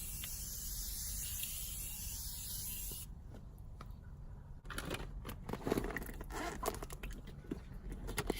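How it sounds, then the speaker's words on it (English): Morphe setting mist is sprayed onto a face in a few quick, close, soft hissing bursts over a quiet room. "So before I go in with lipstick, I'm gonna go ahead and set my face. I'm using the Morphe setting mist,"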